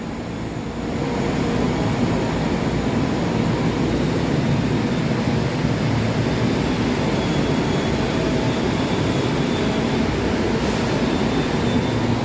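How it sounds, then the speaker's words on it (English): A Long Island Rail Road train bound for Babylon sits at a station, filling the space with a loud, steady, unbroken rumble and hiss from start to finish, with no voices. "Okay, so this train is going to Babylon."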